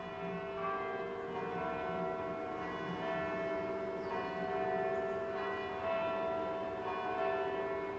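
Bells ringing at the Bell Project, sustained overlapping metallic tones with rich ringing partials that keep sounding and blending, moderately distant and steady throughout without voices.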